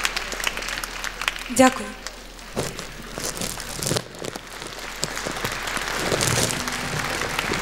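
Audience applause at a concert honoring a Ukrainian singer, a scattered, moderate patter of clapping in a hall with someone speaking over it.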